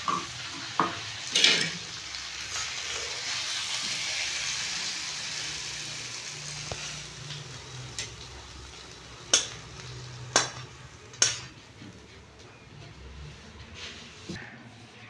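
A pan of Bengali muri ghonto, made with fish head and gobindobhog rice, is stirred over steady frying hiss, with sharp spatula clicks and scrapes against the pan at irregular intervals.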